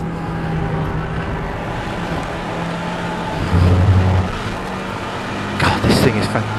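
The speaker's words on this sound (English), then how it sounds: "Just keep it in third gear there, even though it sounds a bit messy because it goes on the road limit." A Renault Megane R26R held in third gear on a race track, a loud steady engine drone heard from inside the car with a brief surge midway and a rougher burst near the end, with a voice talking over it.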